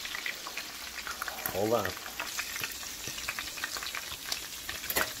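Hot pork grease frying in a pan for baked ziti, a steady crackling sizzle with scattered sharp pops of splatter, while a voice speaks briefly over it.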